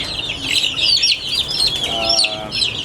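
A flock of chicks about 22 to 23 days old chirps and peeps constantly nearby in a dense, overlapping chorus, with no voices.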